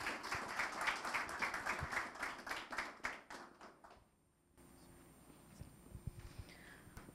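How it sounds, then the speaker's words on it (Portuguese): Audience applause at a natural supplements company event, a group of clapping hands that dies away after about four seconds into quiet room tone with a few faint taps and knocks. "uma salva de palmas para a doutora Luísa Junqueira."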